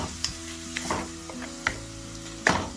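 Onions frying in a pan until golden brown for a kofta curry, a close steady sizzle with a few sharp scrapes and taps of a spoon stirring through it, no talking.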